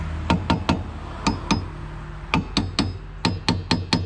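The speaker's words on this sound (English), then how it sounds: "with a little bit of a light tap." Light hammer taps work a rear brake drum off a 2001–05 Honda Civic, a dozen sharp metallic knocks in small clusters of two or three with short pauses between, close up and alone.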